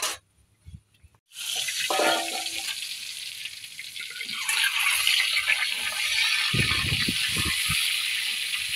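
An egg frying in oil in a pan, a steady hiss of sizzling that starts after a short quiet opening and runs throughout, with a few low clattering knocks in the background.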